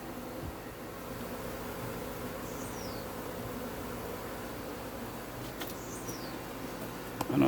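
A honey bee swarm being gathered off a wall into a box hums steadily. The buzzing is low and continuous, fairly faint and alone, with a few louder passes from single bees.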